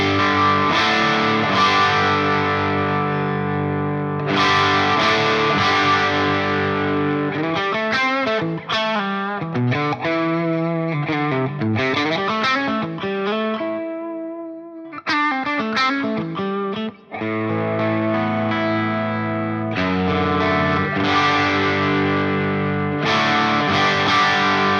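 Electric guitar through a Friedman IRX amp with the gain boosted: thick distorted chords and riffs played continuously, loud and close, with sustained crunchy chords opening and closing quicker picked runs.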